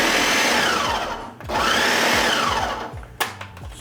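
A kitchen blender whirs loudly through a salsa with cilantro, the motor surging and dipping in short pulses, with a brief stop and restart and a clunk near the end.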